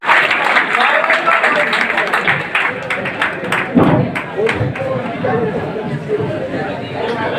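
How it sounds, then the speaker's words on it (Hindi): A crowd at a BJP gathering in Karol Bagh applauds loudly while people chatter, the clapping steady and dense at first, then thinning and mixing with voices toward the end. "जोरदार तालियां देंगे"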